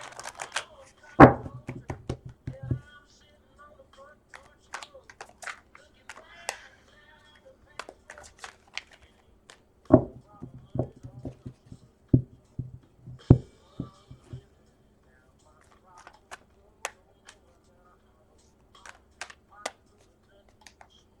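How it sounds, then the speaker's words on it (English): A tarot deck shuffled by hand in short bursts, crisp close-up card slaps and riffles separated by pauses, loudest near the start and around the middle, then trailing off into sparse clicks. "I think they're shuffled good"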